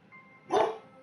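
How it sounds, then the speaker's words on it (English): A dog gives a single short, loud bark close by, standing out briefly against a quiet background. "Sorry for the barking"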